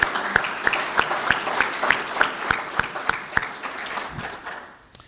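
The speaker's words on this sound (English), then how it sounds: "Would you please give them a round of applause for their work?" An audience at an annual meeting applauds with steady, crisp clapping that gradually thins and fades out toward the end.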